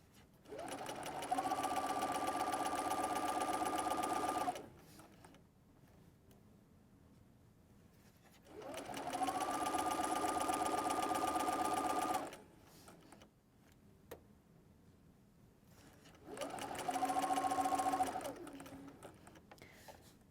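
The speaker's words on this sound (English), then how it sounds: "When you get to the pin, pull it out and keep stitching." A sewing machine stitches fabric for a cuddle throw in three bursts of rapid, even whirring, each about four seconds long, with quiet pauses between them in a calm indoor setting.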